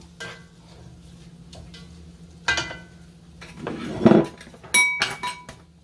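Shrimp mixture stirred in a pot with a utensil, a few sharp scraping and clinking strokes against metal separated by quiet pauses, close and alone without talk.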